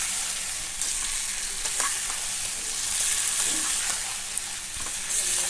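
Nut paste and poppy seed paste frying with potatoes in oil, a steady dense sizzle throughout with occasional faint scrapes of stirring, no voices.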